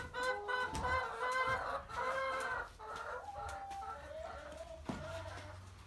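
Free-range farm chickens cluck and crow nearby, a rooster's drawn-out calls layered over steady hen clucking, with no talking.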